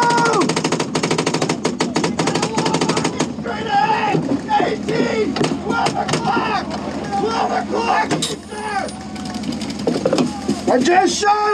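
Rapid bursts of paintball guns firing from a paintball tank during a Fulda Gap 2022 scenario game, dense popping volleys near and far under constant shouting and an engine rumble.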